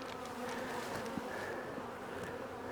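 Honey bees buzz around an overturned beehive, a dense, steady swarm hum close to the listener with no talk.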